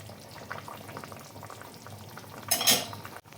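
Hilsa and aubergine curry bubbling steadily in a pot as raw mustard oil goes in, a soft boiling murmur with light utensil clinks and a brief louder splash and sizzle near the end.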